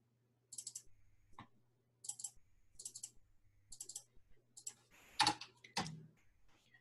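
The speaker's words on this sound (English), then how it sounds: "We simply type Probit and then the variables just like before." A computer keyboard clatters with short bursts of quick keystrokes entering a Probit command in Stata, close and quiet, in four or five clusters separated by pauses.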